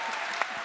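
Audience applause at a 2022 festival conference: a brief, dense burst of clapping from a crowd, steady and fairly loud, with no voices standing out.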